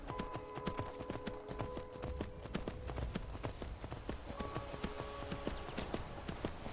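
Horse hooves clip-clop in a steady trotting rhythm in the video game Skyrim, crisp repeated hoofbeats over a low hum with faint tonal game sounds behind.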